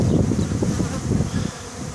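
Honeybees in spring swarm around their hive in flight, a dense continuous buzzing drone that stays loud and close throughout, thinning slightly toward the end.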